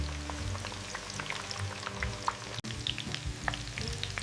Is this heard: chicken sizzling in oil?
yes